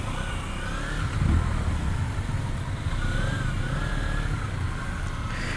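A Kawasaki Z250 motorcycle engine hums on a test ride, a steady mid-pitched drone with a brief rev partway through, heard under wind from the rider's position.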